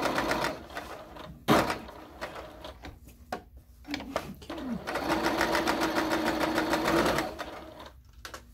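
A sewing machine stitches an oven mitt around a curve with a fast, steady mechanical whir and needle chatter, briefly pausing and restarting, close and fairly loud throughout.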